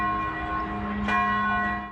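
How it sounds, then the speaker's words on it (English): Church bells ringing at Villanova University in Philadelphia, a sustained peal of overlapping tones with a fresh strike near the middle, moderately loud and ringing out clearly with no voices. "The bells ringing in Pope Leo's honor at Villanova University in Philadelphia"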